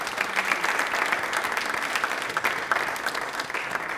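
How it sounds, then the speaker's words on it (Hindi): Sustained audience applause at a live quiz show event, a dense, steady wash of many hands clapping throughout with no pauses, fairly loud and close. "तालियां प्लीज एक बार जोरदार बजा दीजिए इसके लिए।"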